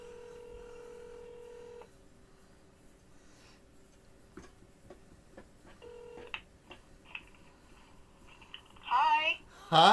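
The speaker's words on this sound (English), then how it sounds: "Oh yeah, we'll phone them up right now." Telephone dial tone followed by a short series of keypad dialing beeps, quiet and near, then a burst of louder warbling ring or line sounds at the end.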